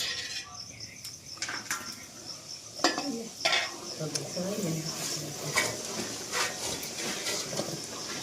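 Flour added to cashews and almonds frying in a pan, with metal spoon scrapes and clinks against the pan, a soft sizzle and faint insect chirping beneath, voices speaking intermittently.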